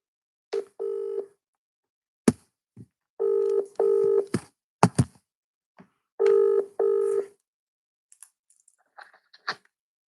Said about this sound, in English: Vicky Manson, your phone is going to get a call for Jonathan